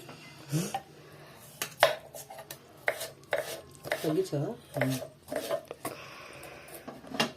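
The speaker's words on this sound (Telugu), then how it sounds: "ఎంత స్పీడ్ కట్ చేసేదో చూడండి." A knife chops vegetables quickly on a board, a fast irregular run of sharp nearby cuts with short pauses and occasional clinks of pots and utensils.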